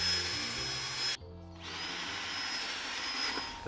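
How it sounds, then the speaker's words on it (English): Power drill boring holes into a plastic plant bucket, a steady whining hum that cuts out briefly then resumes, close and fairly quiet with no talk. "what you need is a drill and just put four holes in the bucket"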